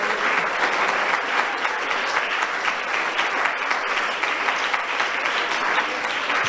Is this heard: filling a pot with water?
no